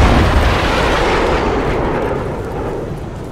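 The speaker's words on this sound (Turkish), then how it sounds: "Bomba geliyor." A loud bomb blast in the Project Reality infantry shooter game, a heavy boom at the start whose rumbling roar decays slowly over several seconds, with no voices.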